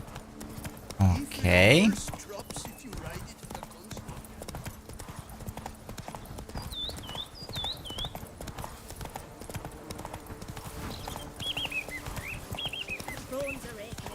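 Roach the horse gallops in Witcher 3 with rapid, rhythmic clip-clop hoofbeats running steadily throughout, broken by a brief whinny early on, while a voice speaks briefly.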